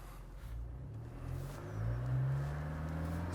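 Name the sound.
Toyota Land Cruiser engine revving climbing sandy slope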